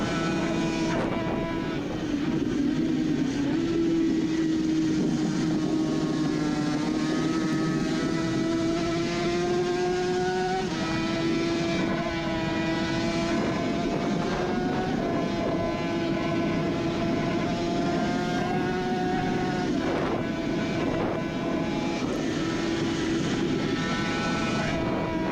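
Suzuki RG500 racing motorcycle engine recorded onboard during a classic race on the Isle of Man course in 2018, a loud, steady high-revving drone whose pitch rises and eases through the gears, with no talking.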